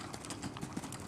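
A horse cantering in a riding lesson with hooves thudding in a quick, rhythmic clip-clop, close and moderately loud, over about a second.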